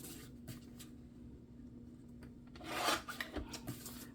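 Scissors trim around a vintage-style paper card figure for a Halloween craft, a few soft separate snips and rasps followed by a short denser burst of cutting, close and quiet with no talking.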